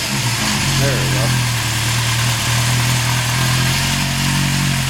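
A 1974 Honda CB750 motorcycle with about 250,000 km idles close by, a loud, even, throbbing four-cylinder drone that holds steady throughout, with a voice briefly over it near the start.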